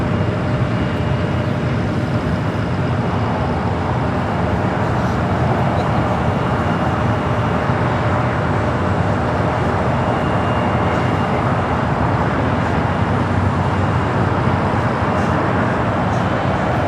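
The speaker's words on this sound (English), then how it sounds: "777 freighter coming in from Taipei." A Boeing 777 freighter arriving from Taipei lands at LAX, heard as a loud, constant broadband roar of jet engines that holds steady throughout with no clear rise or fade.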